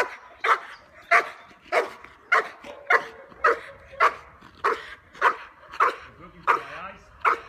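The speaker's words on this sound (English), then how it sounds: "then he wants to bark." A dog barks in a regular series of about a dozen short, sharp barks, close and loud, evenly spaced with brief gaps between them.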